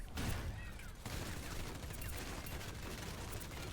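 Rapid bursts of gunfire from Wrecking Ball in the video game Overwatch 2 strike a wall, forming a dense, continuous clatter of shots and impacts that stays steady and loud across the whole stretch.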